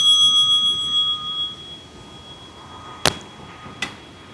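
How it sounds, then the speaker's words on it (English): A ringing bell tone hums and fades away over the first second or so, then two sharp clicks follow in the quiet. "And then the bell."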